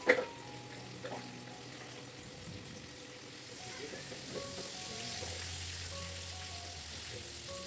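Quiet sizzling of tomatoes and shrimp paste frying together in a pan, a soft steady hiss building toward the end, with a brief clatter at the start.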